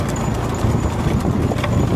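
Bullock cart race with bulls' hooves pounding and the cart rattling at a fast, irregular beat, loud and close, with crowd noise mixed underneath.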